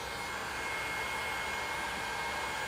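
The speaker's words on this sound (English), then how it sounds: "Go over with a heat gun or blow dryer." Heat gun or blow dryer warming the adhesive under a car emblem, a steady loud blowing whoosh with an even tone and no breaks.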